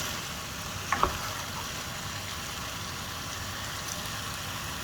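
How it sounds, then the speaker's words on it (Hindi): Chicken liver frying in masala in a pan, a steady close hiss and sizzle with a couple of small clicks early on. "चिकन लीवर को 1 मिनट तक मैंने बहुत अच्छी तरह से इस मसाले में चिकन को फ्राई होने दिया है।"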